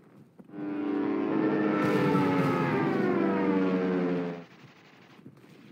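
A tactical bomber in the wargame Panzer Corps gives a single droning engine roar that swells up, holds steady for about four seconds, then cuts off, loud and alone.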